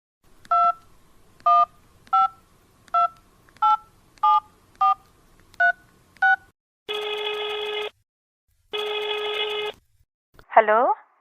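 A telephone number is keyed in for an audio drama, ten evenly spaced touch-tone beeps followed by two long ringing tones and a brief warbling electronic chirp, crisp and close.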